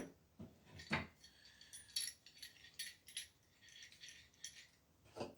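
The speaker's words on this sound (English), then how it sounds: "Then we take another clamp and just clamp this end." A clamp tightened on a guitar fingerboard against scrap wood, a few faint, sparse rattles and metallic clicks spaced over several seconds in a quiet room.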